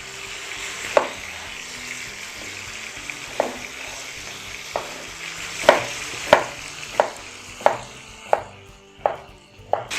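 Eggplant is cut into pieces with a knife on a board, several sharp chopping knocks that come faster toward the end, heard close over a faint sizzling background with no talking.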